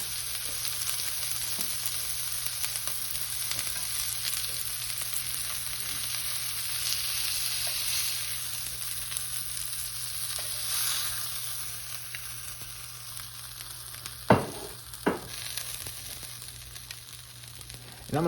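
Flat iron steak sizzling in a hot pan, a steady close crackling fry lasting throughout, with a few sharp clanks near the end as the meat is moved.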